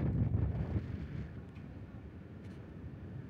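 Wind gusts buffet the microphone on the open back deck of the Sky Princess cruise ship at sea, a low rumbling rush that is strongest at the start and then settles into a steady, softer blowing.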